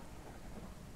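Thunder rumbles in the video game Mirror's Edge, a brief low roll heard alone beneath steady rain.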